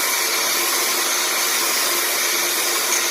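An electric mixer whips egg whites with sugar for a lemon meringue pie, giving a loud, steady, high whirring drone that runs unbroken throughout, with no talking over it.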